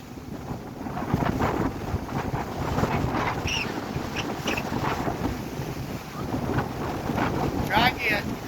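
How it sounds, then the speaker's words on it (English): Strong wind buffets the microphone at a beach, a loud continuous rumbling roar with gusts throughout, with faint voices at times. "The wind's blowing at your back 80 miles an hour."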